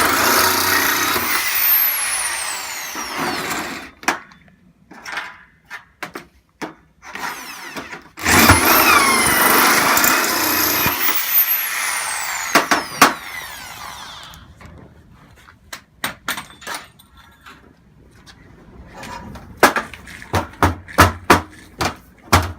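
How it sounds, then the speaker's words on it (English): A 32mm Starrett hole saw cuts through metal on a rack, a loud close grinding whine in long bursts, followed by a scatter of sharp knocks and clatter. "This is a 32mm starette hole saw."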